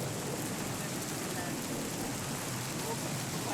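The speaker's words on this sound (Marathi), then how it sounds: "गुहारघरमध्ये मुसळधार पाऊस पडतो" Heavy monsoon downpour at Guhagar in Konkan Maharashtra, a dense steady hiss of rain filling the whole stretch with a low rumble beneath, constant and enveloping with no clear voices.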